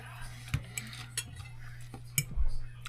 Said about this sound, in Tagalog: kain pala tayo ng pansit luto ng asawa ko